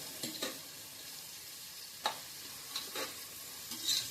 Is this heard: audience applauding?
no